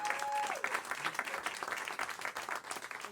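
A comedy club crowd claps for comedians Glenn and Dana, a steady short round of applause with a voice speaking over it at the start.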